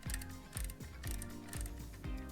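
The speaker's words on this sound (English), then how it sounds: "You push the shutter and then you wind it" A film camera's shutter is fired and its winding lever advanced to recock it, giving repeated close mechanical ratcheting clicks and whirring in an even rhythm, about four cycles, with no voices.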